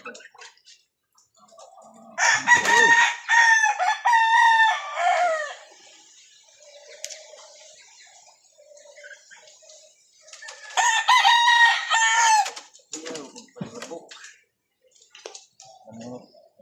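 A small freshly caught wild jungle rooster crows and clucks in two loud, close bursts separated by quieter stretches, with faint scattered sounds between calls and no talk over the bird.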